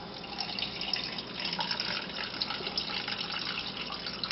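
Soy sauce poured into a pork marinade with sake in a bowl, a soft continuous trickle and splash of liquid, close and fairly quiet, with no talk.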